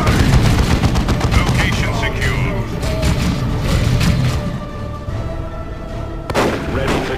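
Gunfire and artillery booms from the Warhammer 40,000 strategy game Dawn of War II, a dense barrage of repeated shots and blasts layered under short spoken unit responses.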